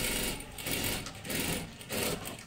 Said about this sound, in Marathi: परत एकदा आपल्याला डबल शिलाई मारून घ्यायची आहे